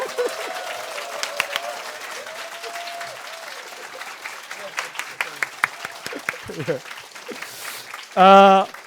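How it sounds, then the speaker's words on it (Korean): A church congregation applauds an award presented for perfect attendance at special dawn prayer services: steady clapping runs throughout at moderate distance with a few sharper claps, and a brief loud tonal burst near the end. "그 박수."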